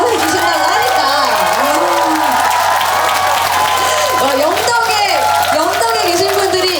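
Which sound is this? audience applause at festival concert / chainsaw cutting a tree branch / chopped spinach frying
audience applause at festival concert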